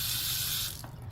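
Tap water running into a sink in a rental property, a steady broadband rush that stops abruptly near the end, leaving a low mechanical hum underneath.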